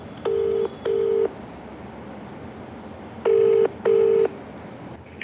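A telephone number being dialed for a call, heard as four loud, clean keypad tones in two pairs separated by a pause, close and alone with no talking.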